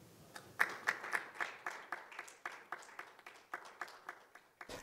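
A small audience at a Korean-language youth peace forum applauds to welcome a KOICA executive director taking the podium, giving a sparse, quiet run of separate claps with a few sharper ones near the start.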